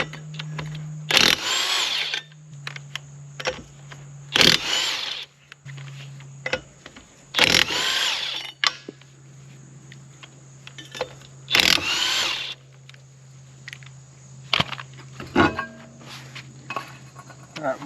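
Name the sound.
removing camper wheel tire with power tool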